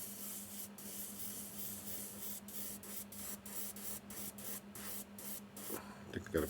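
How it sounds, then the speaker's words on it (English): An airbrush sprays paint onto a sabertooth cat model as a steady hiss with a low hum underneath, broken by short rhythmic pauses as the trigger is worked. "so it's going to spray a little bit more paint than the other one"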